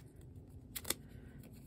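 Scissors cut through a clear craft film strip for stickers: one or two quick, close snips in quiet surroundings, with a soft rustle of the material around them.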